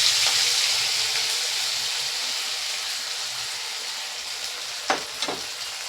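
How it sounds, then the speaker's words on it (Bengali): Soaked sago cooks in ghee with cardamom and bay leaves for a sweet sago payesh, giving a faint, even sizzle. Two brief stirring scrapes come near the end, and no one speaks. "ঘি দিয়ে সাবুটাকে ভালো করে একটু নেড়ে চেড়ে নেব"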